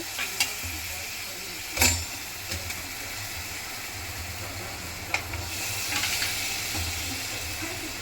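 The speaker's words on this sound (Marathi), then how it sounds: "हे असं मिक्स करायचं त्याच्यामध्ये आणि मग हे चटपटीत कॉर्न असे चांगले ढवळून घ्यायचे" Corn with spices and butter is stirred in a hot pan with a soft, steady sizzle, a few sharp utensil scrapes and clinks, and no voices.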